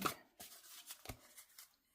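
Oracle cards are shuffled by hand, giving a few soft papery riffles and slaps in an uneven rhythm, quiet and close, with no one speaking.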